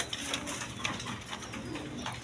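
Black Beauty pigeons coo softly and continuously, with low throaty calls layered over faint rustling in a close loft.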